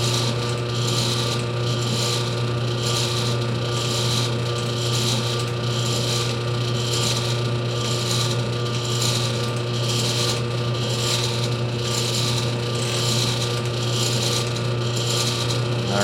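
A Delta Ammco metal shaper cuts metal, its ram stroking back and forth in a steady repeating rhythm about once a second under a constant mechanical hum.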